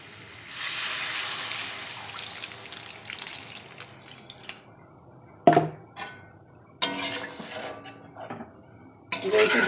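Water poured into a cooking pan of egg and potato curry already browned in spices, a few short splashing bursts with clinks of pot and utensil between quieter stretches.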